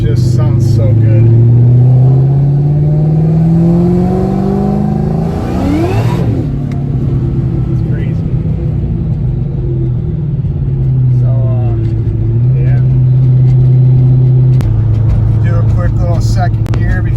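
Car exhaust with headers and a Mac 3.5-inch catback, a loud, rowdy rumble that revs up and shifts through gears, the pitch rising then dropping, with someone talking over it at times.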